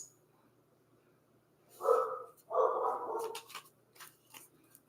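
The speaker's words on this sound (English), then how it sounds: "This girl here, she is still barking. I told you I got the neighborhood barker." A female dog, the neighborhood barker, lets out two or three muffled, gruff barks close by, followed by a few softer snorts and shuffling noises in an otherwise quiet room.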